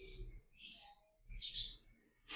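A breeding lovebird gives a few short, high chirps in quick bursts, fairly faint and close, with brief pauses between calls and no voices.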